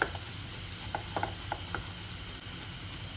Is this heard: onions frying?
yes